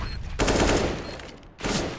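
Rapid automatic gunfire from a Call of Duty Black Ops 3 esports match, two loud bursts of crackling shots separated by a short lull, close and dense with game noise underneath.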